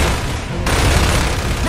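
Heavy gunfire in a Gears of War 3 cutscene: a dense, loud, continuous barrage of shots and booms that shifts in tone partway through and never stops.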